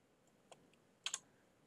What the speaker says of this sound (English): Let's type in office.